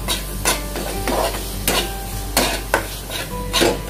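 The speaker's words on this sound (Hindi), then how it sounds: "इसको आपको ऐसे ही कम से कम 1 से 2 मिनट तक फ्राई करना है।" Paneer sandwich filling fries in a pan, with repeated stirring scrapes and clinks of a utensil against the pan over a steady soft sizzle, no voices.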